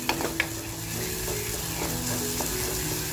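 Crab kharda with garlic sautéing in a clay pot over a low gas flame: a soft, steady sizzle under scraping stirs, with a few sharp utensil clicks near the start.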